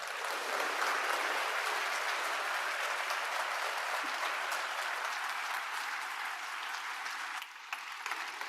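An audience at a youth forum opening ceremony applauding after a speech, dense steady clapping filling the hall for the whole stretch, fairly distant and even, easing slightly toward the end.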